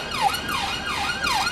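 Emergency sirens wail in London traffic, an ambulance and police car caught behind stuck vehicles; a rhythmic rising-and-falling tone repeats about four times, clear and moderately near.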